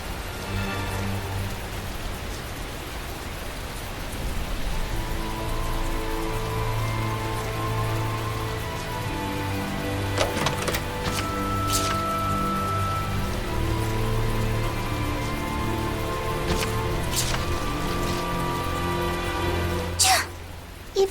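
Rain falls steadily in a fantasy video game, a soft continuous hiss, while layered sustained music tones and a few sharp game effects sound over it; no talk is heard.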